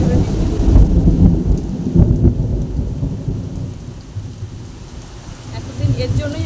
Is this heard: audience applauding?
no